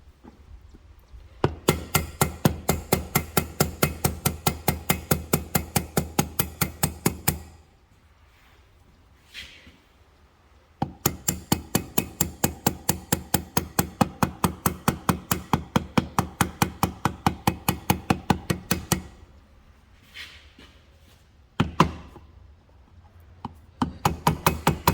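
Rapid, even metallic knocks strike old engine parts of a 100-plus-year-old engine, using a tool as a hammer. They come in long bursts of many blows, separated by short quiet gaps.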